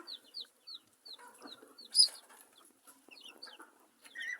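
High, thin peeping of newly hatched chicks repeats in quick chirps alongside a few soft, low clucks from a broody hen, fairly quiet and close.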